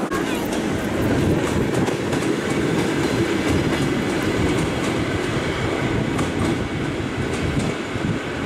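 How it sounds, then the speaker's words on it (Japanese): A suburban train rumbles past steadily through the city of Vladivostok, Russia, with a dense rolling roar and faint clickety-clack of wheels, loud and close throughout. "ちょうど近郊列車が街を抜けていくところ"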